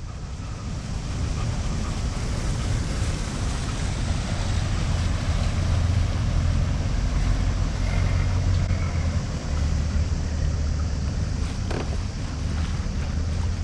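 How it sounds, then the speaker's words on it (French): A boat engine drones steadily under wind and water noise as it moves through busy sea traffic near Poros, Greece, a loud continuous low rumble with no clear rise in revs. "Sacré embouteillage. Remets des gaz, Laurent."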